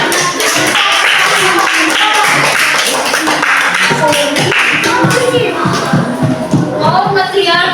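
A classroom of pupils clapping their hands together at the end of a science lesson, dense steady applause close by for several seconds, with voices mixed in.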